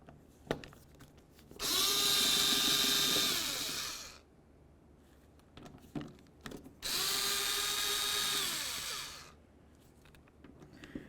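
A power driver fitted with a T27 bit backs out door latch bolts on a Dodge Journey in two long whirring runs whose pitch falls as each bolt frees, with small clicks and taps between, close and without speech.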